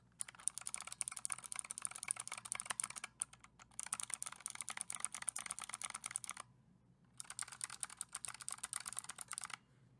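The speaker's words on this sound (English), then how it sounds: "hold the keyboard up to the microphone to give you an idea on the keycap switches for this, or the actual purple clickies" Typing on a Razer Huntsman Mini keyboard with purple clicky switches, held near the microphone: rapid, crisp key clicks in three quick bursts separated by short pauses, with no voices.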